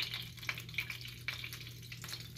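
Grease sizzling in a wok while Chinese steak is cooked, a faint crackling hiss with small sharp pops over a low steady hum, and no voices.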